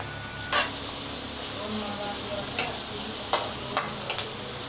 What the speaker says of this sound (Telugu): నూనె ఏడెక్కింది, ఉల్లిగడ్డలు వేసేస్తాం